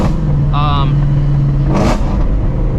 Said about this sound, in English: them downshifts, baby